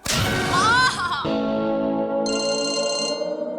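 A phone ringtone rings steadily for an incoming call, a bright repeating electronic tone that starts after a brief burst of music and continues alone to the end.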